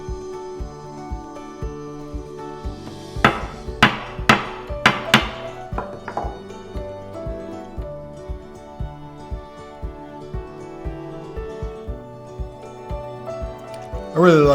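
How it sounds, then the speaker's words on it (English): A hammer taps frets into a guitar fretboard during a fret install, a quick run of about five sharp, ringing metallic strikes over steady background music, followed by lighter, scattered taps. "I'm going to start the fret with my hammer."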